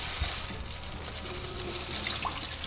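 A dissolved dog poop bag liner is poured from the bag into a toilet as a thin liquid stream. Faint, steady trickling and splashing continue throughout at low level, with no voices.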